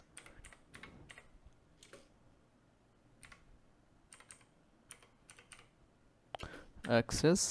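Someone types a short phrase on a computer keyboard, producing quiet, close bursts of rapid key clicks separated by pauses, with a louder rustling clatter near the end.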